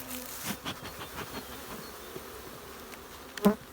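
Honeybees hum and buzz around a hive in February, a steady insect drone with individual bees zipping past close by, one loud pass near the end.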